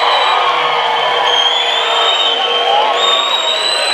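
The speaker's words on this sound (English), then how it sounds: "You will definitely be able and need to be able to cheer loudly so that they can feel your appreciation." Graduation audience cheering loudly in a practice cheer, a dense, sustained crowd roar with whoops running steadily through the whole stretch.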